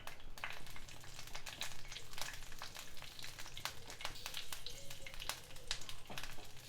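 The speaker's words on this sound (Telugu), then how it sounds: "ఒక్క నిమిషం వేయించుకోవాలి వీటిని." Four torn green chillies frying in about a teaspoon of hot oil, a dense crackling sizzle full of quick pops and spits, close and continuous with no voices.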